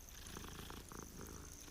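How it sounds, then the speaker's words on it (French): A cat in the video game Hogwarts Legacy purrs softly and continuously in a short, quiet stretch with no talking. "Ah oui, c'est un chat."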